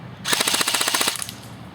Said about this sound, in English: Put it on full auto and get a rate of fire test.